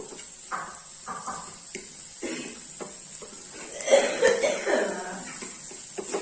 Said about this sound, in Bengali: আমার মার খুব কাশি হয়েছে, মা কাশছে।